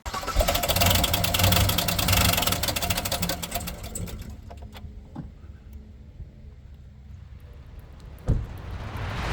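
A GM 6.2-litre L87 V8 with an internal mechanical failure runs steadily up close, a busy ticking clatter over a low drone that eases down partway through, followed by a single brief thump near the end; no voices.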